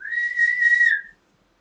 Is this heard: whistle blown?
yes